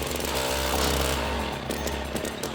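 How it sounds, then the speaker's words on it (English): A gas-powered ice auger engine runs roughly at close range, its loud, uneven rattling drone wavering and sputtering as the revs shift, with no voices heard. "And then the auger begins acting up."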